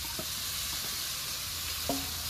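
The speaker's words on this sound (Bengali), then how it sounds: "কেটে রাখা কাঁচা লঙ্কাগুলো দিয়ে দিয়েছি, এবার নেড়ে চেড়ে আর একটু আলুটাকে ভেজে নেব" Potatoes and chopped green chillies fry in a pan with a steady close sizzle, broken by a few soft clicks and scrapes as they are stirred.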